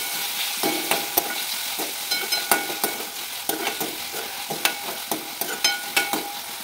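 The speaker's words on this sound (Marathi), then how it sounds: "दोन मिनिटं टोमॅटो पण भाजून घ्यायची चांगलं, त्याची ग्रेव्ही तयार होते." Tomatoes roast with a pinch of salt in a pan for a cabbage curry gravy, with soft sizzling under repeated sharp scrapes and taps of a spoon against the pan.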